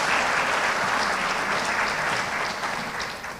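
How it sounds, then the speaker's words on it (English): Audience applause at a community awards show, a full, steady roar of many hands clapping that holds for a few seconds and then begins to fade. "let's have one more round of applause"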